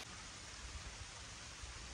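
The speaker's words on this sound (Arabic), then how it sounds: "حتى الدنيا قاعد تمطر" Rain falls steadily in a forest as a faint, even hiss with soft patter, continuous and without voices.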